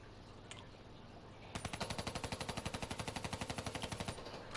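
Kuda submachine gun fires a long, rapid, evenly spaced burst in a multiplayer shooter game, loud and close, starting after a quiet moment and running for about three seconds.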